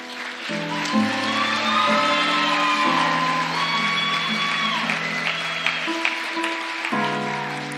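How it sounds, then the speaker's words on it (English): Audience applause and whoops at a beauty pageant, the ICC Most Beautiful Pageant, as a finalist is announced. A steady wash of clapping and cheering runs under loud, sustained stage music throughout. "Let's give another round of applause for our finalist."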